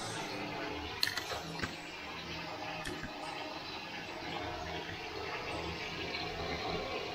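Hot water runs steadily into a bathtub being filled for hand-washing laundry, a continuous rushing gush with a few brief knocks near the start, fairly close and alone.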